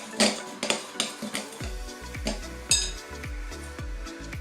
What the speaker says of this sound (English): Give this a mix together